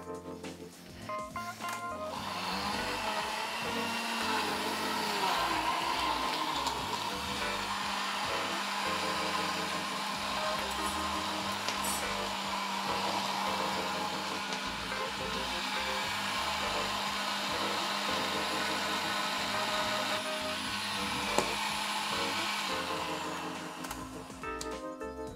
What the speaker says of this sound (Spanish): Vamos a poner la tapa a la batidora y le vamos a dar máxima potencia.